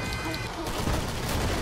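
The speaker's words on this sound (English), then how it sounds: "I'm throwing every grenade I have at them." Rapid gunfire and grenade blasts in the video game Killing Floor form a dense, loud, continuous barrage of booms and crackle for the short moment, with speech mixed in.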